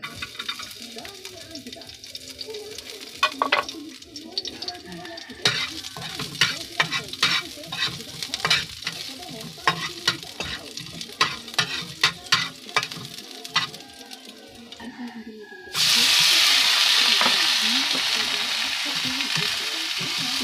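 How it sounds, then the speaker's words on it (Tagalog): Frog pieces sautéed with garlic and onion in a little oil, a steady sizzle broken by many sharp scraping clicks of a spoon stirring the pan, then a louder, denser hiss surging in over the last few seconds. "Igisa lang natin sa bawang at sibuyas."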